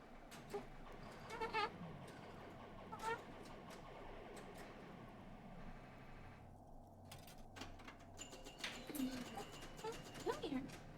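Goats bleating in the video game Disco Elysium, several wavering cries scattered over a faint mechanical whir and ambient hum, at moderate distance, with a voice speaking briefly in between.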